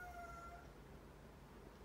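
A cat gives one short, faint meow at the start, followed by quiet room tone with no voices.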